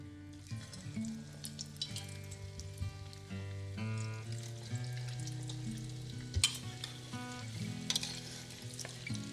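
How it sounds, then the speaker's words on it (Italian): Small meatballs fry in oil heated to 170 degrees, giving a steady close crackling sizzle with occasional stirring clinks and a faint musical background, no speech. "Ho portato la temperatura dell'olio a 170 gradi ed ora friggiamo le polpettine"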